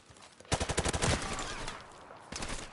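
A G3 rifle firing in Call of Duty, a rapid burst of about eight close, loud shots in quick rhythm, then a pause and a shorter second burst.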